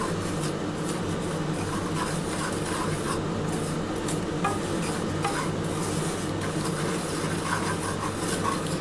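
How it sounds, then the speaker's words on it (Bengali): Semolina being stirred in hot ghee in a pan, a steady, continuous scraping and soft sizzle with no pauses, fairly close and alone without voices. "সুজিটা একটুখানি নাড়াচাড়া করতে হবে ঘিয়ের সাথে।"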